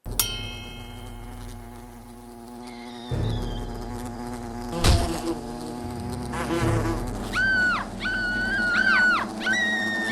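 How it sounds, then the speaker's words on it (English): Buzzing bees hover over a corpse in the Fable video game, wavering insect drones rising and falling in pitch against a low ambient background. "What are those bees doing to that corp?"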